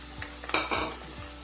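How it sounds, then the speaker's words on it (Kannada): Eggs added to already fried potatoes sizzle in hot oil in a pan for egg curry, with a steady crackle broken by a few scraping stirs of a spatula or spoon. The sound is close and moderately loud, with no talking. "ಸ್ವಲ್ಪ ಫ್ರೈ ಆಗಬೇಕು ಎಣ್ಣೆಯಲ್ಲಿ"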